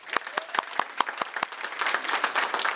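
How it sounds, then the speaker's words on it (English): A small live podcast audience applauds: a few distinct, sharp claps at first, then spreading into fuller, denser clapping from the crowd, close and moderately loud. "Give her a round of applause, please."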